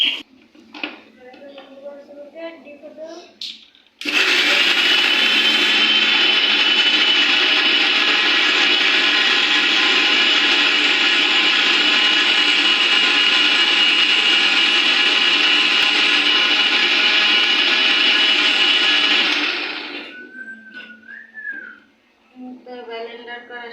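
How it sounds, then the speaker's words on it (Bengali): An electric blender grinds green chillies and onions. It roars loudly and evenly for about fifteen seconds, then winds down, and brief speech comes before and after it. "এই যে দেখেন ব্লেন্ডার করে নিলাম কাঁচামরিচ আর পেঁয়াজ।"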